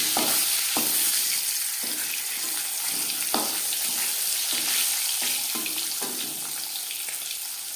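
Marinated fish fries in hot refined oil, a loud steady hiss and sizzle with intermittent sharp crackles and spatters throughout.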